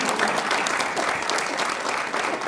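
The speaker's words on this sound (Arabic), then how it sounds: "صفقوا لي ايش فيكم." Studio audience applause fills a television talk show set, a dense, steady wash of many hands clapping at close range with no break for the whole stretch.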